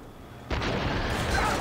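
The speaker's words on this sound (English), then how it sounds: "That's the plane shooting." In the video game The Darkness, a plane opens fire with a sudden loud burst of heavy gunfire that keeps roaring as a continuous booming barrage.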